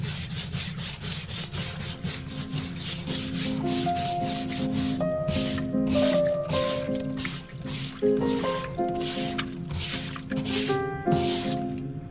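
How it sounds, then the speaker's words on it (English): A fingernail brush scrubs finish off engraved leather for a chair back. The sound is a soft, repeated rubbing and scratching, close and fairly quiet, with faint tonal squeaks and ringing over the brushing strokes. "take this fingernail brush"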